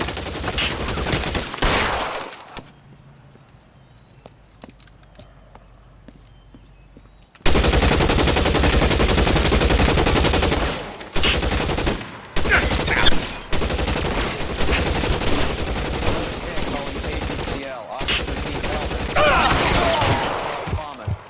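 Bursts of gunfire in L.A. Noire Remastered, rapid machine-gun volleys and shots that are loud and near, broken by a quieter stretch of ambient noise, then resuming in long sustained fusillades.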